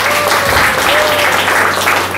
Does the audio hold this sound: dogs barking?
no